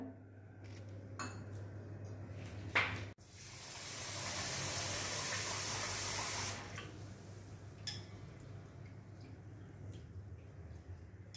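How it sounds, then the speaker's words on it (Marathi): Water splashes and swishes steadily in a metal vessel as rice is washed, for a few seconds, framed by light clinks and scraping of utensils before and after. "हे दोन पाण्यातून स्वच्छ धुवून घ्यायचं आहे आपल्याला"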